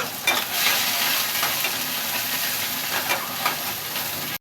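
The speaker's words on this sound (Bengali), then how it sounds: "এবার আমি পেঁয়াজটা ভেজে নিচ্ছি" Onions frying in hot oil in a pan, a loud, close, continuous hissing sizzle with light stirring scrapes, no voices over it.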